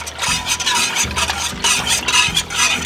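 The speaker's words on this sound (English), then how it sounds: "I put the pot of yogurt on a stove on high heat. I'm going to keep whisking it until it boils." Whisk scraping steadily around a pot of yogurt heated on a stove over high heat, a close, continuous rhythmic rasp with regular strokes and no talking.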